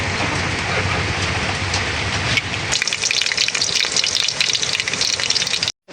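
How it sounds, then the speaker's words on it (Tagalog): Steady rain pours down during a home cooking session, a dense continuous hiss that grows louder and harsher after a few seconds, then cuts off abruptly at the end, with no talk over it. "Ayan po, umuulan na naman."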